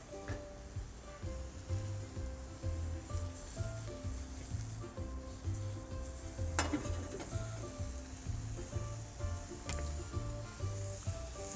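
Chicken sizzles in a pan for chicken Marsala, a steady close frying hiss broken by rhythmic stirring and scraping, with a couple of sharp utensil clinks against the pan.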